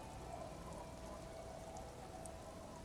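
Night rain falls over a district of wooden houses in the video game Disco Elysium, a soft, even, continuous patter that stays steady and faint throughout.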